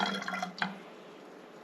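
Purified water is poured into a plastic spray bottle marked with a line, giving a brief, faint gurgling trickle that quickly fades to quiet.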